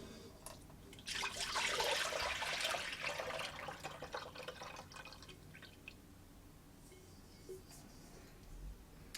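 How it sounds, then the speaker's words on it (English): Freshly squeezed orange juice poured from a container into a pot on a stove, a soft rushing splash that swells for a few seconds, then trails into faint drips in a quiet kitchen. "The first thing that I'm going to do is pour my orange juice into the pot."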